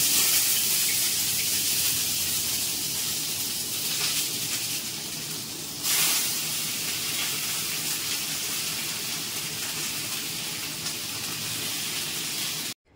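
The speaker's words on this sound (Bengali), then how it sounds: "এবার মাছটা ভাজা বেশি দিচ্ছি" Fish frying in a pan, a continuous loud broadband sizzle that holds steady throughout, with a brief surge partway through, heard alone.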